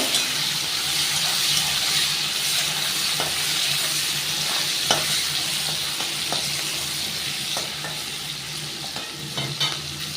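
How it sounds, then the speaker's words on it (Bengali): Sliced onions and three green chillies fry in hot oil, a steady, loud sizzle heard up close. Faint clicks of stirring break through at intervals. No one speaks. "পেঁয়াজটা আমি একটু লাল লাল করে ভেজে নেবো"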